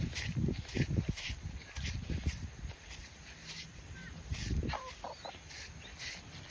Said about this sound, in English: I'm being chased by chickens.